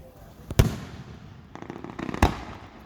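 A fireworks grand finale at an outdoor display sounds as a few sharp, loud booms with crackling bursts between them, heard from a moderate distance.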